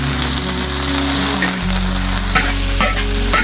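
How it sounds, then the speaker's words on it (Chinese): Cucumber and bean sprouts stir-fried in a hot wok, a loud, dense sizzle with a rain-like crackle and several scraping tosses in the second half. "把配菜炒香。"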